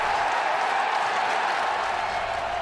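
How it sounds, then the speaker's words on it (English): A noisy Millwall home crowd in South London roars after a goal, a dense, unbroken football-stadium din held at a steady level throughout. "There was a noisy South London crowd that roared the Lions onto their 3rd."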